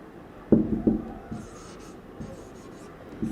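Chalk or marker scratching on a board during a differential equations lecture, a few short strokes close by, then quieter faint scribbling in a room with little else heard.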